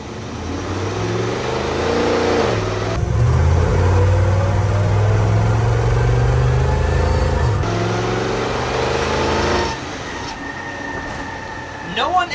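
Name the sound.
1975 Toyota Land Cruiser FJ40 engine revving, fuel-injected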